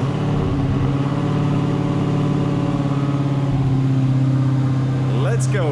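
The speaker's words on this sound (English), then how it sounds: "let's do a quick remote start, I guess, for the Charger Redeye, 1100 horsepower" 1100 hp Dodge Charger Redeye widebody with stock exhaust, idling after a remote start, a loud, steady, deep engine rumble with a slight rise in pitch near the end.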